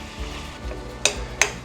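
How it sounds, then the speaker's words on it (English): Ground beef browns in a pan for Asian-style sloppy joes, a low steady sizzle under two sharp metallic clinks of a utensil against the pan, close and without talk. "This meat's starting to brown pretty good, so I'm going to make the first flip."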